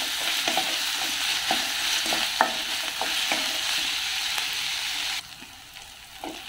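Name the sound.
tomatoes frying and stirred in oil in a pan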